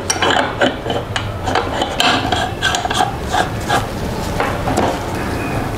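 Electric meat grinder working meat through on a second pass at home, a steady loud grinding rasp with clattering metallic scrapes throughout.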